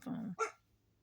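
A dog barking, two quick low barks in close succession, faint and somewhat distant, then quiet.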